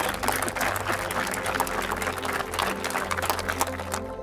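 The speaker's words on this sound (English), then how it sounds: "let's have a big, big round of applause" Wedding guests applauding the newly married couple at a celebration in Kennebunkport, Maine, dense clapping mixed with loud music and a low hum throughout.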